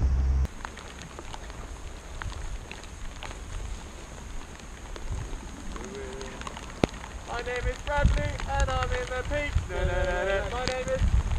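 Rain falls steadily in the Peak District as a constant, close hiss with wind noise buffeting the microphone, and voices and laughter break in over it toward the end.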